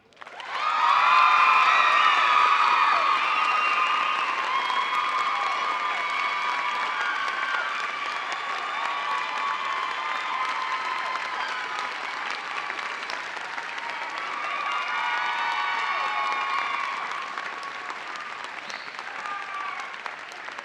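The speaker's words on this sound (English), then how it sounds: "could we have another round of applause and congratulations for our graduates?" A commencement audience gives graduates sustained applause and cheering, a dense wash of clapping and whoops that swells early, eases slightly, then rises again before fading near the end.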